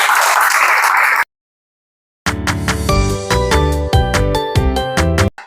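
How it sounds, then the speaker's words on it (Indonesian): A short burst of classroom applause for the students, many hands clapping close by, stops abruptly; after a second of silence, loud rhythmic music follows. "Tepuk tangan untuk kalian semua dong."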